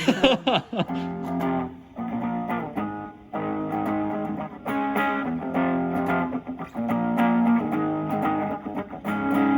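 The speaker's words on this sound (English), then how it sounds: "for the distortion, we also have a gain parameter, which essentially tells you like how strongly to clip off the signal" An electric guitar through a PIC32-based distortion pedal plays sustained, gritty chords and notes, loud and up front with brief gaps between phrases.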